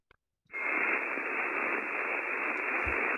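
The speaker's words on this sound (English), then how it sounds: "that high-pitched noise we just heard, was an amplifier being tuned" A steady, loud hiss-like tone from a radio amplifier being tuned, starting abruptly after a couple of faint clicks and holding evenly to the end.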